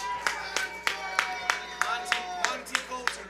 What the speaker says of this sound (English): I need a round of applause.